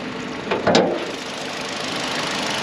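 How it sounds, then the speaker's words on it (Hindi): A used car for sale at a Sharjah used-car market starts up, a short burst of engine noise settling into a steady, even idle with no knocking or misfire. "इंजन माशाल्लाह स्टार्ट है"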